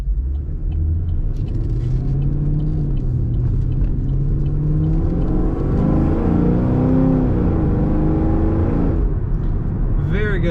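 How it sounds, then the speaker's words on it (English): A 2010 Chevrolet Camaro 2SS accelerating, its exhaust building from a low rumble into a rising, loud roar through the gears, with road noise and a voice talking over it. "Very good acceleration, a really great exhaust sound."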